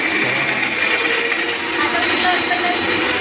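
Kitchen mixer grinder whirring steadily while spices are ground for amti, a continuous buzzing drone that stays close and even under faint background voices.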